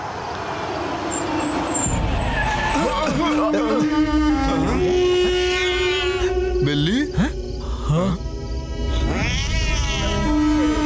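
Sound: cat meowing

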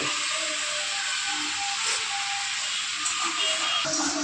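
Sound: pressure cooker steaming while cooking chickpea sundal

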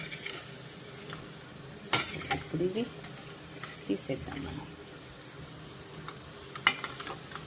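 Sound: pesara garelu (moong dal vadas) frying in oil

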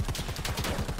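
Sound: machine gun fire in Predator: Hunting Grounds video game

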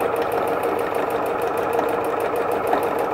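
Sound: sewing machine stitching fabric

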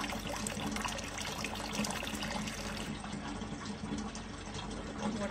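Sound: water running while filling bottles at a water pump

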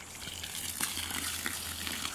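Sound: water draining out of a backup water tank

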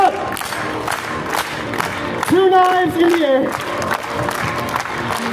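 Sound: street performance crowd clapping

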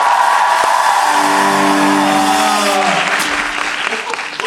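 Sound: concert audience applause

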